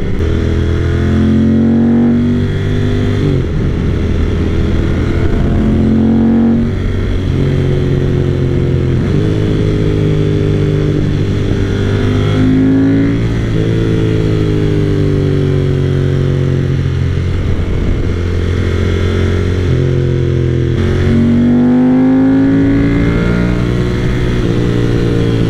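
1995 Ducati 900 SS/SP motorcycle ridden through winding curves, its loud engine rising and falling continuously as it revs up out of bends and backs off into them.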